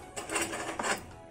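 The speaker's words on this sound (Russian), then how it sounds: "Сейчас я паяльник куда-нибудь подальше отодвину, чтобы" A soldering iron is shifted aside on a JCD8898 soldering station, giving a few short rattling, clattering mechanical knocks at close range with no talk.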